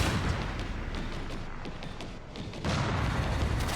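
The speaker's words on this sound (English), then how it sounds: "I'm finna just start shooting him back." Gunfire in a Resident Evil game, a rapid run of loud shots and bursts packed closely together, with a short dip before the firing surges again.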